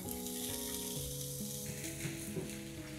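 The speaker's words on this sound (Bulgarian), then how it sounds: "Време е да изпържа лука." Onion fries in a pan with a steady, even sizzle beneath sustained tonal music throughout, the frying close but partly masked, with no speech.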